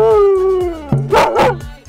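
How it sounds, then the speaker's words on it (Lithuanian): A dog lets out a loud, close howl that slides slowly downward, then breaks into a few short yips, beside a winter ice-hole swimming spot in Vilnius. "Nu, čia bus vietoj saksofono, mums šuniukas pagros."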